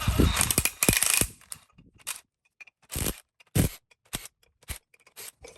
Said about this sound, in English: Bill's going to zip those out with his 1/2-inch DeWalt gun